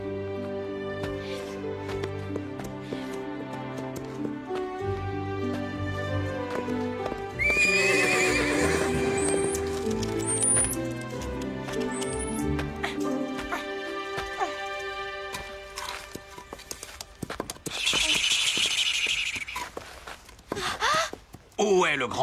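Horse neighing and whinnying with hooves clip-clopping, set in an animated children's cartoon with music and voices; a loud, shrill whinny and steady hoofbeats run through the middle, with more hoof sounds and whinnies toward the end.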